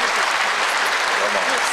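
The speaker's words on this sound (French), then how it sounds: "Je voudrais qu'on vous applaudisse à nouveau." Dense audience clapping fills a hall at a disability awards ceremony, a short, uniform burst of applause with no pauses.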